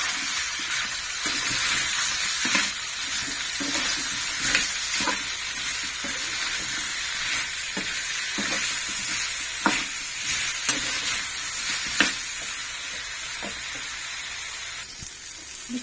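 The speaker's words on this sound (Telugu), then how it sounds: "చింతపండు కూడా ఇందులోనే వేసి మగ్గబెట్టేస్తాం" Tomato chutney with tamarind simmers and sizzles steadily in a pan, a constant close hiss and bubbling broken by occasional soft spoon taps and stirring knocks throughout.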